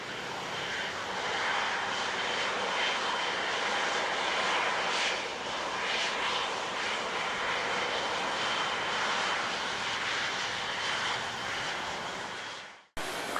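Air France airliner jet engines roar steadily at SJO airport in Costa Rica, a loud continuous broadband rush that holds level throughout before cutting off abruptly at the end.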